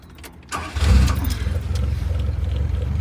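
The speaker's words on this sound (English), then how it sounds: "start the engine so you can hear how the exhaust sounds with the hush power muffler" A 1975 Fiat Spider engine with a Hush Power aftermarket muffler cranks and catches, then settles into a steady, low idle with a deep, muffled exhaust rumble, close by.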